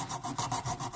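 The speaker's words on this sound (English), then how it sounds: "I'm going to deepen that score using the edge of this little jeweler's file." Small jeweler's file scraping across a plastic cassette deck door to deepen a score line, a steady back-and-forth rasp of about six strokes in a second, close and alone.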